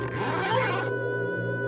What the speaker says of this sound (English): He jerked the zipper back up.